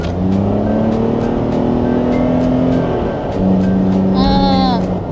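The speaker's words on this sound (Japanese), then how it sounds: "ちなみに今はエコモードで走っています。" A Toyota Yaris Cross with a 1.5-litre petrol engine drives in eco mode, its steady engine drone and road hum heard from inside the cabin, with a person talking over it.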